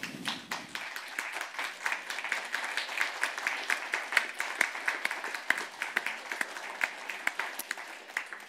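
A crowd applauds warmly, dense clapping sustained throughout at moderate distance.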